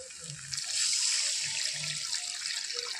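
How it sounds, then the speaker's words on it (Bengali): Water poured into cooked-down masala for a fish curry, a steady rushing pour that starts about half a second in and continues close and clear, with no voices. "এবার দিয়ে দেবো পরিমাণ মতো জল।"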